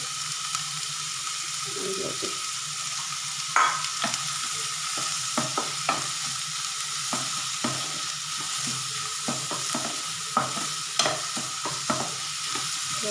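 Garlic tempering sizzles in hot oil in a pan, a steady hiss broken by light clicks and scrapes of stirring.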